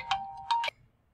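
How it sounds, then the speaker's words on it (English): A phone ringtone interrupting a church sermon on water baptism: a short electronic melody of a few bright tonal notes, close and clear, then stopping abruptly into quiet. "Sorry for that phone call interruption."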